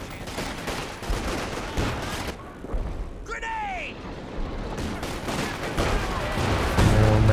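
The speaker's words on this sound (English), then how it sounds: "More major artillery coming down." Artillery fire in Company of Heroes 2, bursts of booming shots and gunfire rattling across a battlefield with a whistling shell midway, loud and ongoing, with commentary talking over the action.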